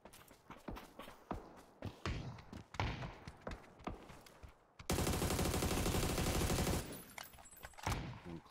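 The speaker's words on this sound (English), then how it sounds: "I'm just shooting through the smoke." Gunfire in a shooter video game rings out as a string of sharp separate shots, then a dense sustained burst of rapid fire, followed by scattered shots; players' voices are faint or absent.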